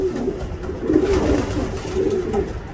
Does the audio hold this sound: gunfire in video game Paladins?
no